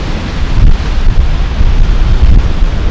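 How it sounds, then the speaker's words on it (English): Heavy sea waves surge and break on Dungeness beach, a steady broadband roar with no talk, mixed with wind buffeting the microphone. "I'll show you the waves are still a bit heavy"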